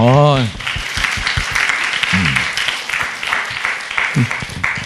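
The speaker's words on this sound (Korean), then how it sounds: "방송실 한번 박수 한번 해줘" Clapping from a church congregation, steady and fairly close, runs under someone speaking, with several short vocal bursts breaking through the applause.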